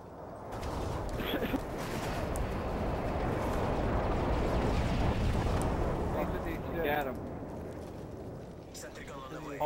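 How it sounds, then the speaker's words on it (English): Stealth bomber strike in Modern Warfare 3: a sustained, loud wall of rumbling explosions roars for several seconds, with excited voices talking over the blasts. "Bombs away, bitch!"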